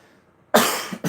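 A single harsh cough bursts out after a moment of near silence, followed by a short second rasp, close to the microphone.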